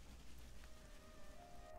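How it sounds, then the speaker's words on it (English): Rain falling in the video game Xenoblade Chronicles 3: a soft, steady hiss of rainfall, faint and continuous, with a few thin sustained tones drifting through it. "Game, it cannot be raining. Like genuinely, stop raining."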